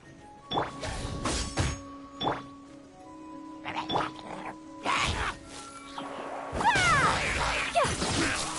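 A cat character meows several times in Genshin Impact, short bright cries spaced across the moment, mixed with thuds and game effects at close range.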